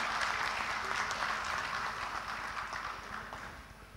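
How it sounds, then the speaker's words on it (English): A large audience applauds at an official inauguration ceremony, with dense, steady clapping filling the room. It starts strong and fades gradually toward the end, with no one speaking over it. "A huge round of applause, ladies and gentlemen."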